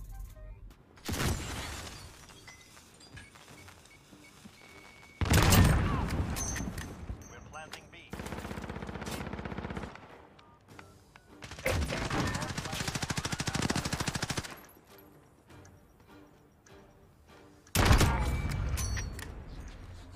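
Shotgun blasts in a multiplayer shooter video game, several loud booming bursts with shattering debris separated by brief quieter gaps over about twenty seconds.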